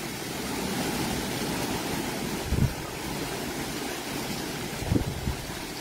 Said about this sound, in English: it's just pretty intense, the wind gusts